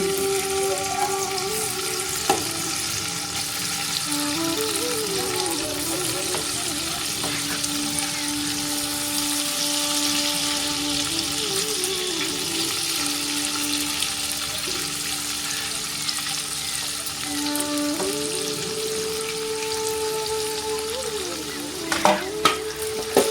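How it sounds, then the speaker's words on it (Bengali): Steady, loud sizzling of paneer frying in a pan, with occasional stirring scrapes and clatter near the end. "এবারে আমি পনিরগুলো এক এক করে ছেড়ে দিচ্ছি। সুন্দর করে একটু হালকা বাদামি কালারের করে ভেজে নেব।"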